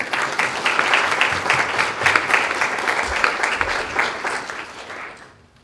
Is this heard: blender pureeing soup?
no